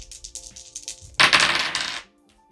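Two dice rolled onto a hard surface during a savings challenge game, a quick run of small clattering taps followed by a louder, denser rattle as they tumble and settle, close and clear with no talking.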